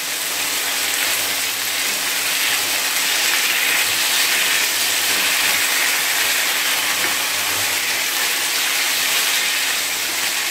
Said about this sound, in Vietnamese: Cho lửa thật to lên thì món này xào nhanh mà.